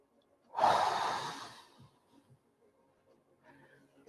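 A deep, forceful exhale during a stretching session, about one second long and close, trailing off into quiet with faint soft movement sounds afterward.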